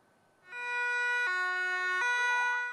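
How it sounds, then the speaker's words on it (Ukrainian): A loud electronic siren starts abruptly and wails in alternating tones, close and sustained, at a rescue training ground in Vinnytsia, Ukraine. "Під звуки сирени"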